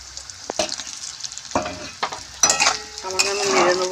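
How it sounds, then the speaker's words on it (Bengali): Fried potatoes stirred in a pan with browned onions for a drumstick curry, irregular scraping and clacking strokes of a spatula over a soft sizzle that grows fuller toward the end. "সামান্য আমি নেড়ে নেবো আলুটা।"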